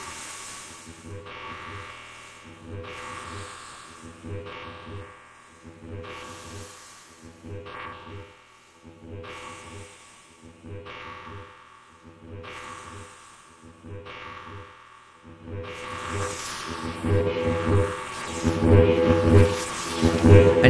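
SoundMorph's Dust plugin producing a buzzing, pulsing granular texture in repeating bursts that swell louder and denser toward the end as the effector strength rises, with no talking.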